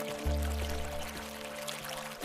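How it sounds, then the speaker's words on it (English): Small water pool in an indie video game gives a soft continuous trickling, pouring wash under steady low game tones, fairly quiet and close. "Now you hear this water pool over here,"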